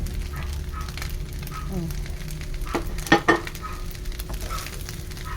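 Chopped onion hitting a hot pan for fried rice, sizzling steadily at close range with a couple of louder bursts as it is stirred, while a woman and child chat quietly.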